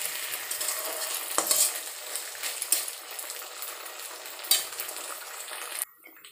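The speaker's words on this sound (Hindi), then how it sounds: "अदरक और लहसुन का 1 मिनट भूनेंगे ताकि इसका जो कच्चा स्मेल है वो दूर हो जाए।" Ginger and garlic frying in a pan make a steady sizzle while a utensil stirs and scrapes against it, with a few sharp clinks, before the sound drops away at the end.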